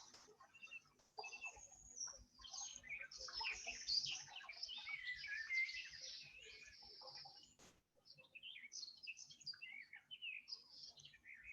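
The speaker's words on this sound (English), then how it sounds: "You can hear the songs of the birds and the run of the river" Birds sing continuously beside a flowing river, busy chirps and trills layered at moderate distance over a faint steady background, with a brief gap before the song resumes.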